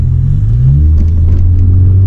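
Automatic car accelerating while its transmission is shifted from drive into manual mode: a loud, steady low engine rumble with rising pitch, heard close inside the car with no talk.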